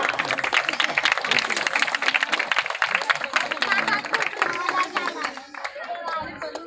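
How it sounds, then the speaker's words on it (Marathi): Loud, sustained clapping from an audience at a Tanha Pola children's festival gathering in Tapovan, Jayprakash Nagar, Nagpur, a dense wash of hands with crowd chatter mixed in, fading slightly near the end. "एकदा जोरदार टाळ्या"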